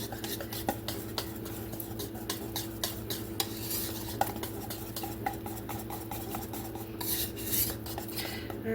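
A whisk or spoon stirs a powdered sugar glaze for cinnamon rolls in a bowl, making a steady run of close scraping and light clinking against the bowl, with no talking.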